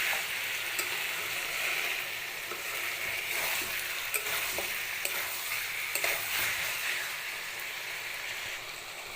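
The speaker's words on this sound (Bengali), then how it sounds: "নেড়ে চেড়ে ওপর মিক্স করে নিচ্ছি আর এখন মাংস থেকে তেল ছেড়ে এসছে" Chicken frying in its own released oil keeps up a steady hiss while a utensil stirs it, scraping and tapping the pan at irregular intervals, with no voices present.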